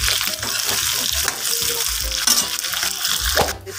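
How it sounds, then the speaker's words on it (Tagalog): Soy-marinated beef fries in a pan for spicy pork and beef caldereta, a close, steady hissing sizzle with uneven popping and brief stirring noises, ending in a sharper burst of spitting oil. "Piniprito ko muna yung beef."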